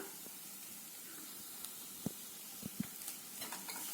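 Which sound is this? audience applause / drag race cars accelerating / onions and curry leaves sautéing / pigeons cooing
onions and curry leaves sautéing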